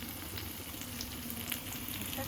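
Fish frying in a pan gives a soft, steady crackling sizzle, quiet and unbroken for a couple of seconds.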